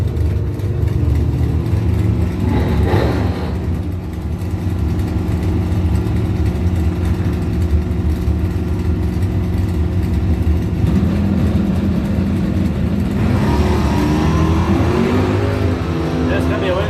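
Drag cars sit at the line, a Mopar against a 1967 Chevrolet Camaro, engines idling in a heavy low rumble. The revs rise sharply near the end as the cars launch, with a loud announcer talking over the noise.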